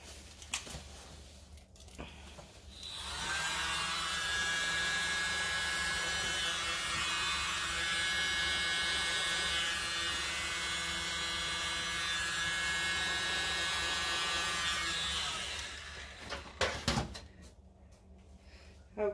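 Motorized spinner whirring as it spins a canvas coated in a Dutch pour bloom acrylic painting, a steady close mechanical drone lasting about twelve seconds, with handling clatter before it starts and after it stops.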